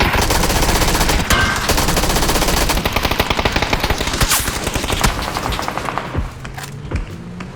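Loud automatic gunfire in the video game PUBG, a continuous rapid burst for several seconds that thins into scattered shots near the end.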